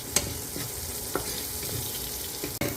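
Vegetables, garlic and tomato sizzle steadily in a pan while being stirred, a constant frying hiss broken by several sharp spoon scrapes and clicks, heard close and alone.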